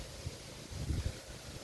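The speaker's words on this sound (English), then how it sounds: "It's far too windy now" Strong wind rushes through woodland in low, gusty buffets against the microphone, a brief rumbling roar with no voices.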